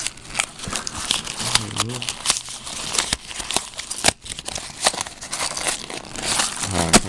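Wrapping paper from a gift crinkles and rustles loudly up close as it is torn open, with repeated crumpling bursts and people talking over it.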